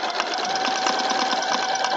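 A sewing machine runs steadily and close up as it restitches a broken thread line on a log cabin quilt, giving a fast, even mechanical whir with a constant hum and no pauses.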